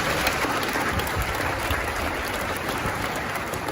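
Round of applause from a symposium audience in a university great hall for speakers and a moderator at a book launch, sustained dense clapping at steady volume throughout.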